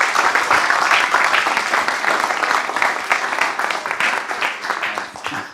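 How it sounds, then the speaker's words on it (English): Sustained applause from an audience thanking speakers at an event, dense, loud clapping from many hands that holds steady before tapering off slightly. "So I think we just have a big round of applause to say thanks to all the speakers"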